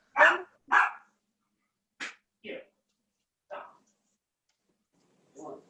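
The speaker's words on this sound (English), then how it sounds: "is that Zoe barking?" Six sharp dog barks, two quick ones then spaced singly, moderately near with silence between.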